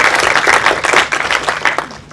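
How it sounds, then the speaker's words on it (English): Audience applause at an LGBT conference welcoming a guest speaker, a short burst of dense, fairly loud clapping that tapers off toward the end. "so please give him a round of applause"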